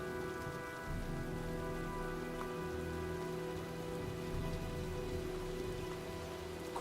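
Rain falls steadily during a storm in the video game Heavy Rain, a constant dense hiss of drops on surfaces with a low rumble underneath and a tonal hum running through it, with no talking.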